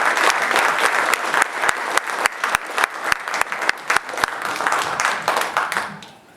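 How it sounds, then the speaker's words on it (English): A room full of people at a Holi celebration claps steadily in sustained applause that fades out toward the end. "A round of applause for Madam Ambassador."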